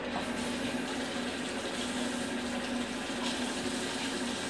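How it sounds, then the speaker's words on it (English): Water poured onto stinging nettles in a cooking pot, a continuous moderate splashing and gurgling flow that runs steadily throughout, faint and close, with no speech. "Let's put some water in them."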